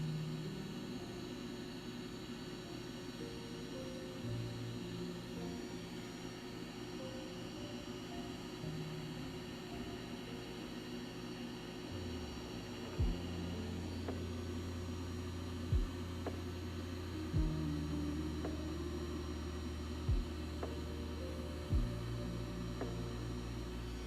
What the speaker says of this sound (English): I'm just going to use my heat gun to get out any remaining resin we have in here